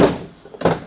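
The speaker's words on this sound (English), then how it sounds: "Actually shuts now." A repaired door swings shut with a single solid thunk, following a softer rattle of movement, close by and fairly loud.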